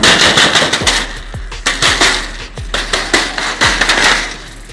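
A flock of racing pigeons released together at a club race liberation in the early morning, a loud burst of many wings clattering and flapping in rapid, uneven sharp beats that continue throughout.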